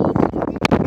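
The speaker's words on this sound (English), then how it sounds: "because it is really windy right here" Gusty wind buffets the microphone in a winter garden, a steady close rumble of broadband noise with brief rustling bursts and no talk.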